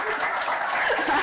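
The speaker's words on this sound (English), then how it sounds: "a round of applause for some of them" An audience at a conference on AI, machine learning and data science in Kenya claps together in a brief, steady wash of applause, fairly loud and continuous, with a few faint chuckles mixed in.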